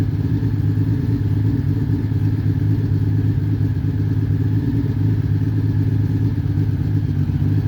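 A 1997 Honda Valkyrie motorcycle engine idles steadily nearby, a loud, even low burble with a faint mechanical clatter running throughout and no change in pace.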